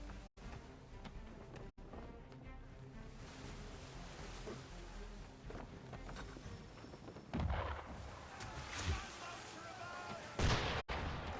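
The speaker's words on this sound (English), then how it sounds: "Why is he shooting at us?" Gunfire in the video game Assassin's Creed III rings out as sharp cracks near the start. Heavier booming shots follow later, over a seaside backdrop of surf and wind.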